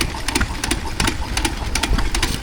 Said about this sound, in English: that's probably a Ruston Hornsby then, judging by the shape